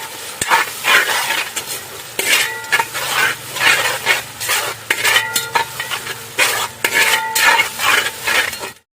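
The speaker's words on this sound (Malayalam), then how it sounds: "ഇതും കുറച്ച് നേരം എണ്ണയിൽ കിടന്ന് നന്നായിട്ട് മൂക്കണം." Crushed ginger and garlic frying in hot oil for a village-style pepper chicken, a loud close sizzle broken by repeated scraping and stirring strokes of a spoon against the pan, with no voices.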